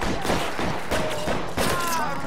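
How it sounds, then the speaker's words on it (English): Gunfire in the video game L.A. Noire, loud bursts of rapid shots in quick succession throughout a short firefight, close and dense, with no talking over it. "I was trying to shoot his hat off."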